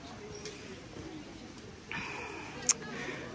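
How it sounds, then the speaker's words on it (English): A pigeon or dove coos softly amid outdoor ambience at Mont Saint-Michel, low and fairly faint, with a brief sharp click and distant background noise. "Bird's waiting for food."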